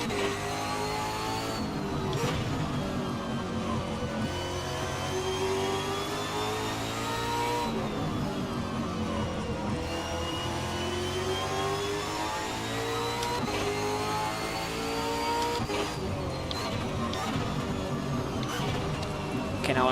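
Supercar engines race in the driving game Assetto Corsa at Tamiami Park, a sustained whining roar with repeated rising and falling pitch sweeps as gears climb and drop, steady and close throughout.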